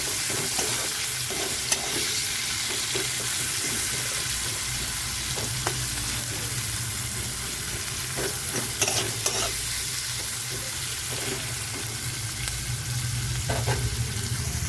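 Onions frying in a pan for paneer masala, a steady close sizzle running throughout with repeated scraping stirs of a spoon against the pan, and no talking.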